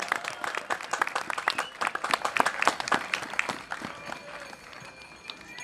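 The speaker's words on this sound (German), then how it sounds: "gebt euch mal einen großen Applaus" Crowd at an outdoor rally and demonstration in Aalen breaks into lively, dense clapping that builds and then thins, staying close and loud before tapering toward the end.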